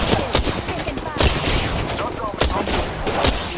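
Rapid bursts of gunfire fill a shooting video game, loud and dense with repeated sharp cracks and booms crowding the whole stretch.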